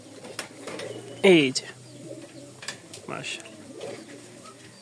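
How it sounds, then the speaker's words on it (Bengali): A pair of pigeons coos near by, with one short, louder rising call standing out among soft rustles, while a person speaks briefly. "এই হচ্ছে কবুতর জোড়াটা, স্থির থাকতেছে না"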